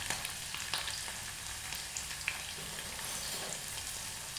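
Garlic sizzles in a hot pan as it is stirred, a steady crackling hiss with a few faint scrapes, heard close with no voices.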